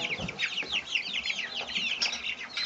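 Several Silkie chickens in a barn keep up a busy, close chorus of overlapping clucks and short chirping calls, with no talking.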